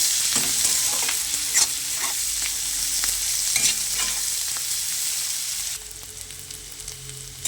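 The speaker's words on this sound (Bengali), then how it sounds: "পেঁয়াজ কুচি, লঙ্কা কুচি আর মাছটা আরেকটু ভালো করে ভেজে নেব" Shrimp fries with chopped onion and chilli in a pan, giving a loud, steady sizzle broken by repeated stirring scrapes, and no voices are heard.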